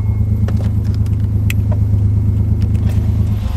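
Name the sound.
1986 Nissan 300ZX engine misfiring on one cylinder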